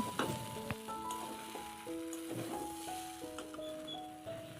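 Vegetables and noodles for a spicy egg chowmein stir-frying in a pan, a continuous loud sizzle with clanks and scrapes of the utensil throughout; faint tonal background music plays underneath.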